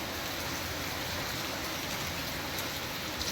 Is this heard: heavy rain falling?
yes